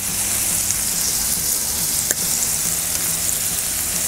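Bacon cheese smash burger patties sizzling on a Blackstone griddle, a loud, dense, continuous hiss with one brief tap partway through and no voices.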